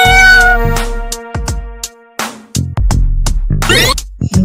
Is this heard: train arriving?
no